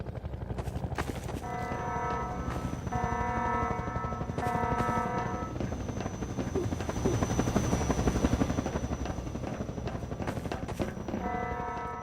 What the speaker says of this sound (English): Since you brought that chopper in on your tail, you want to maybe help us take it down?